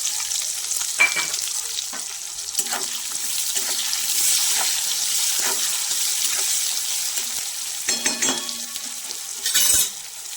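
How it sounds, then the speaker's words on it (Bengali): Chopped onions frying in oil for a cabbage and rohu fish-head dish, a steady close sizzle throughout with intermittent stirring scrapes and a few louder clatters near the end, no voices. "পেঁয়াজ ভাজা হতে হতে আদা রসুন কাঁচা লঙ্কার পেস্টটা করে নেব।"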